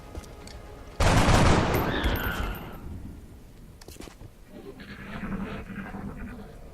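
Squad rifle gunfire in the XCOM: Enemy Unknown video game, a loud sustained burst of shots followed by a fading crackle and then a second, quieter stretch of firing and effects.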